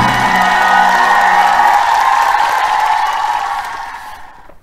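Church congregation applauding and cheering, a loud, dense wash of clapping and voices that holds steady for a few seconds and then fades away.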